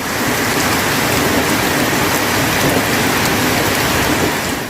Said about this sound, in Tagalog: Kasabay ng pagbuhos ng ulan